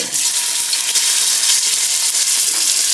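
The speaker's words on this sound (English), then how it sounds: "And it's going to sizzle pretty good." Chopped pork sizzles loudly in a hot pan for green chile, a steady, close hiss of frying with faint crackles throughout and no talking.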